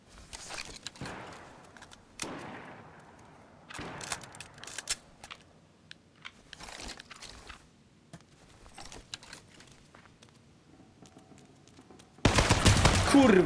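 Bursts of gunfire in the survival battle royale game H1Z1, several sharp volleys scattered across the stretch with quieter gaps between, ending in a loud, dense blast of noise.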